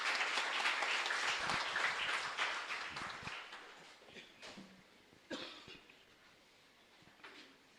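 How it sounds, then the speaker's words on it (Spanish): Congregation applauding the Lord during Mass at a parish church, a loud round of clapping that fades after a few seconds into scattered coughs and throat clearing in a quiet, reverberant space. "Fuerte aplauso para el Señor."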